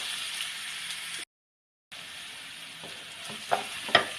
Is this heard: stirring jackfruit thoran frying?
yes